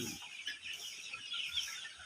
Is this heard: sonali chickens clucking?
yes